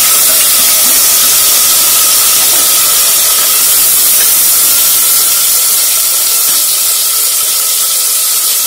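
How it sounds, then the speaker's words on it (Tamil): Tomatoes with salt sauté in a hot pan for a traditional chemmeen dry fish curry. A loud, steady, close sizzling hiss runs on without a break, with no voices. "வதங்கிட்டு இருக்குது தக்காளி, சீக்கிரமா வதங்கிடும்"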